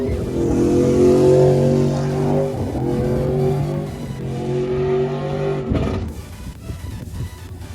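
A TurboJohn Saturn race car with a trans brake, doing a burnout in a burnout pit, revs loudly and steadily with a harsh, sustained engine roar, dipping briefly and surging again before cutting off near the end.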